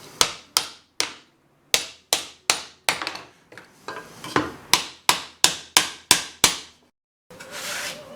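Wooden dowel joint being knocked together with a block: a run of about sixteen sharp, loud wooden taps in a steady, close rhythm, with a short gap partway through and a brief rubbing scrape at the end.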